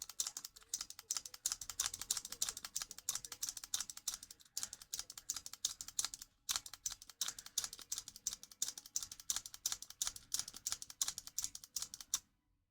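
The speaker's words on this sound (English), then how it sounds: "just take it in and out of the game card slot multiple times" A game card pushed in and pulled out of the card slot of a white Nintendo DSi LL again and again, giving a steady stream of close, crisp plastic clicks and rattles with a brief pause partway through.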